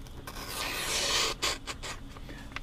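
A cloth wiping polishing compound and petroleum jelly off a knife after stropping, heard up close as a long, even rubbing swipe followed by several short, quick scrubbing strokes.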